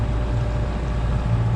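A sailboat motors under engine power at sea, a steady low droning rumble mixed with wind noise that stays constant and loud throughout.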